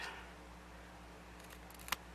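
Small craft scissors snip off a paper seed-packet envelope corner, a quick faint cut or two near the end in an otherwise quiet room.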